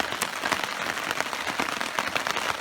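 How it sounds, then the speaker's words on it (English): Rain patters steadily on a campsite tarp during a hammock camping trip at Bear Head Lake, with dense, continuous drumming and sharper individual drops throughout, close and fairly loud, with no voices. "the rain has moved in"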